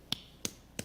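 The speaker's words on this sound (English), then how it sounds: "That was Dr. Phil clapping for her." Dr. Phil claps three times in a slow, evenly spaced rhythm, sharp and fairly close, in an otherwise quiet room.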